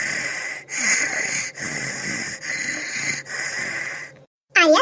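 A sleeping person snores outdoors at night in an orchard, with loud rasping, wheezy breaths repeating in a steady rhythm several times before a short silence and a burst of another sound.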